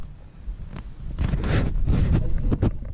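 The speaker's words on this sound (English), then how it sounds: "it is very windy" Strong gusts buffet the microphone beside Temple Lake in the Wind River Range, swelling into loud, roaring bursts after a quieter start.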